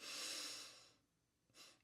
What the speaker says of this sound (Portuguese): E levantar a clavícula assim, ó, e tentar respirar pelo nariz.